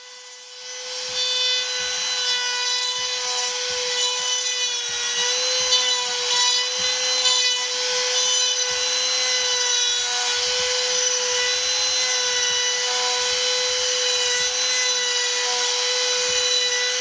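A wood router fitted with a 1/2 inch bit on a 1/4 inch shank radiuses a Les Paul guitar fretboard to a 12-degree curve on rails, its high steady whine continuous under repeated rasping cuts as it passes back and forth.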